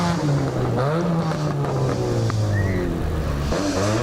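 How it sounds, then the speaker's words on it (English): A Hyundai race car at a lakeside hillclimb event, its engine note climbing and falling through gear changes as it accelerates. The car sounds moderately distant, with a continuous loud drone and no voices. "I think Aidan Brand's Hyundai is heading up there now"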